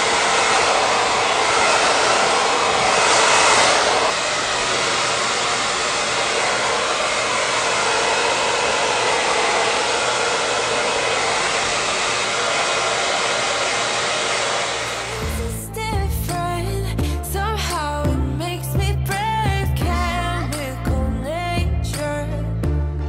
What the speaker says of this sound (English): I'm gonna use my blow dryer to kind of speed things up here